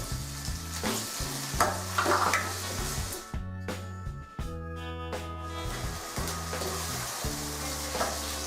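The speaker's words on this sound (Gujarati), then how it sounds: "હવે તેમાં સમારેલા બટાકા ઉમેરીશું" Chopped potatoes tipped into a hot pan of oil for a multi-grain khichdo, loud steady frying sizzle with stirring scrapes and a brief clatter partway through, under a background of music.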